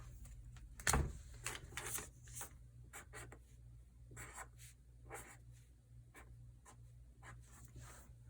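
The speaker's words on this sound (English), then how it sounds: "So I'm going to write her name at the top." A pen scratches across paper, writing a name in a series of short, close, quiet strokes with brief pauses between them, alone without talk.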